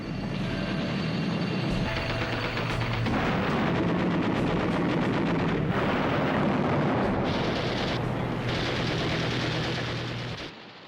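World War II bomb explosions aboard an aircraft carrier, a dense, loud sustained barrage of blasts and rumbling gunfire lasting about ten seconds before cutting off, with no talking.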